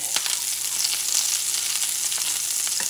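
Venison steak frying in butter in a pan gives a steady, close, bright sizzle that runs throughout with no pauses, marked by a few small spits and pops.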